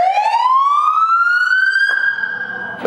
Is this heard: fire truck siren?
yes